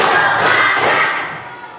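A group claps together in a counted clapping exercise, with a few sharp claps standing out over a steady roomful of noise that fades toward the end.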